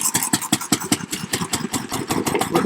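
A 1904 Humberette veteran car engine fires and runs close by, loud rapid chuffing beats in an uneven rhythm with no voices over it.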